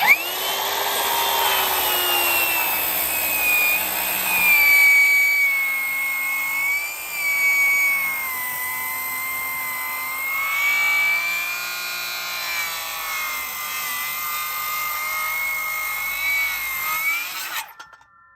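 A Metabo HPT MultiVolt rear-handle circular saw cuts wood at full blade depth with dust extraction running, giving a loud, continuous high whine that shifts slightly in pitch under load for about seventeen seconds before spinning down abruptly.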